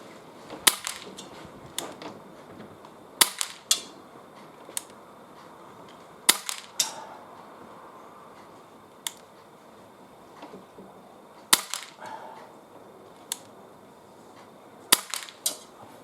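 Umarex Walther CP99 air pistol fired outdoors, with sharp cracking shots spaced a few seconds apart, some coming in quick pairs, and quiet background between them.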